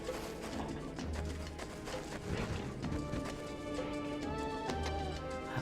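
Boar hoofbeats in The Legend of Zelda: Twilight Princess in the Gerudo Desert, rapid galloping clatter mixed with crashes, thuds and game music, busy and loud throughout.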